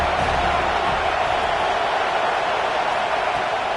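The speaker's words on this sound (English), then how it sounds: "This crowd bringing the energy and noise early." A large stadium crowd at a football game roars steadily in a dense, continuous wash of cheering noise, loud and sustained throughout with no single voice standing out.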